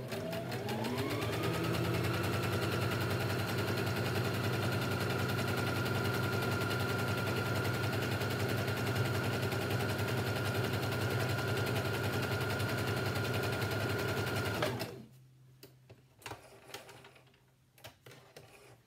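A sewing machine stitches a long seam on a four-ply washable fabric mask, whirring loud and steady for about fifteen seconds, then stops, leaving a few faint clicks and handling noises.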